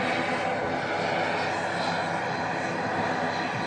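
An Airbus A380 in Dubai Expo livery is pushed back from a stand at Manchester Airport, giving off a steady, broad engine roar. The noise stays continuous at moderate distance, and a voice talks over it.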